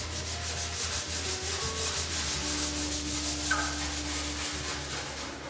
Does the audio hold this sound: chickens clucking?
no